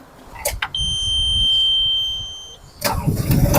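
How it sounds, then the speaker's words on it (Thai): A Yanmar ViO23 Premium Red mini excavator, a 2.3-ton machine with retractable tracks, gives a couple of clicks and then a steady electronic warning beep. The diesel engine then cranks and catches, settling into a close, rough idle. "ตอนนี้เครื่องทำงานแล้วนะฮะ"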